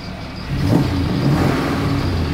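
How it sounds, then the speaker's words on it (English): A 1940 Ford Deluxe convertible resto-mod with electronic fuel injection runs steadily close by, its low engine hum swelling slightly after a half second and then holding even. "Electronic fuel injection, you can hear that."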